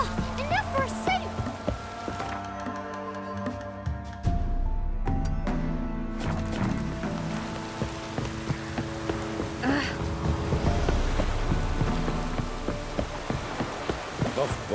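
Rain falls in the video game Witcher 3: Wild Hunt, a steady patter with scattered drops and low thunder rumbles running throughout, mixed with some tonal game sounds early on.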